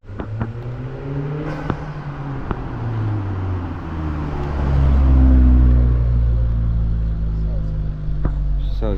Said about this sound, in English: Here's the turbo spool and that shit.